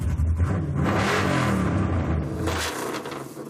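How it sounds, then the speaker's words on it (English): A loud truck engine revs and roars with a deep, rumbling exhaust note, holding steady before easing off near the end. "this thing is famous for its wicked exhaust note"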